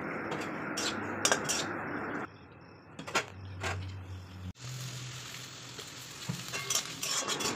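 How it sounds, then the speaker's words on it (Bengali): Onions sizzle in a kadai with a broadband hiss that shifts level partway through, broken by a few sharp clinks and scrapes of a spoon against the pan, no speech. "কড়াইতে কিছু পরিমাণ পেঁয়াজ দিয়ে ভালো করে ভাজতে থাকবো"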